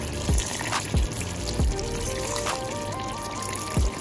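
Water poured from a vessel into a pot of Jamaican coconut curry chicken feet, a steady close trickle with a few soft thumps and clinks, no talking.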